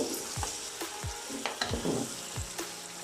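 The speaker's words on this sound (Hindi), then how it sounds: "थोड़ी देर अब हम भूनेंगे गोश्त को मसाले में" Mutton pieces frying in a spice masala with tomato and green chili in a pot, a soft steady sizzle broken by several scraping stirs of a spoon, quiet and close.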